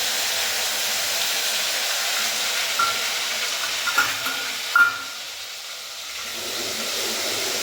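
Hot oil tempering for a Gujarati fenugreek seed curry sizzles in a steady, loud hiss throughout, with brief pops and a faint clink partway through.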